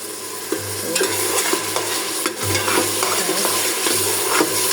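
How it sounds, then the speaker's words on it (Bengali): Beef fries in a pan with cumin paste and ginger paste, a constant loud sizzle broken by repeated scraping strokes of a spoon as the spice mixture is stirred. "এখন সবটা উপকরণ ভালো করে মিক্স করে নেব। ভালো করে মশলাটা কষুক।"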